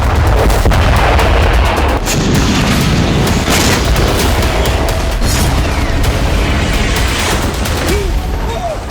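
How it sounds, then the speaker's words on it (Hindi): Heavy gunfire and shelling in a war zone, loud dense booms and rattling bursts overlapping continuously, with voices faintly underneath. "भीषण गोलाबारी करके"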